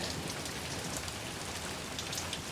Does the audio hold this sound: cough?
no